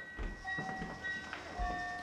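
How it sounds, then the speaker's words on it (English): A toy train runs on a train table on Christmas morning, giving a faint, rhythmic clatter and rumble with soft wheel clicks throughout. "I think it's a train table."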